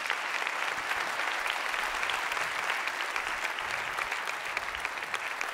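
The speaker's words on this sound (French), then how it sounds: "je vous demande de les applaudir" An audience at an innovation conference applauds as young people walk into the room, a dense and steady wash of many hands clapping that holds at an even level throughout, with no voices on top.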